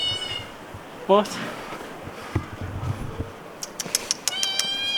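A kitten meows a few times on a city street while someone exploring ruins walks by; high, thin cries come and go among faint background noise, with a person briefly speaking.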